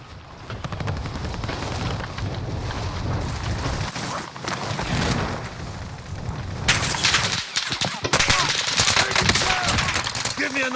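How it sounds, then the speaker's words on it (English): Sustained video game battle gunfire with dense automatic bursts and heavy impacts, loud and continuous throughout, intensifying in the second half, with voices talking over it. "Taking direct fire."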